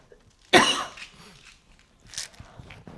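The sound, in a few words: coughing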